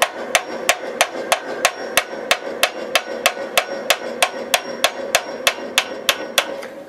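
Steady hammer blows drive a bronze bushing out of the front axle of a Citroën Traction, about twenty sharp metallic strikes in an even rhythm, close and alone with no talk.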